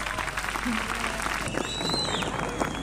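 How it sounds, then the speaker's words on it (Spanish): Applause from a studio audience at a comedy show, a steady dense patter of clapping with music and a voice running over it. "Fuerte el aplauso para el lagarto murdo"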